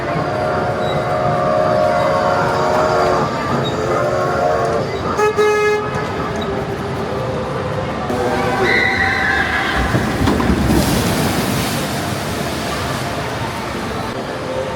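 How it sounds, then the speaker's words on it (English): A small mall ride train at Nickelodeon Universe, Mall of America, rolls past with toots and a whistle blast, rumbling through a noisy crowd with voices all around. "Here comes the mall train."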